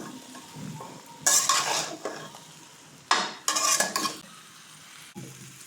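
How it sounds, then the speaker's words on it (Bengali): Spicy mango pickle is stirred in a pan, producing loud bursts of scraping and clattering in two main rounds over a faint background sizzle, with quieter gaps and a final light knock. "এবার এটা সুন্দরভাবে নাড়াচাড়া করব"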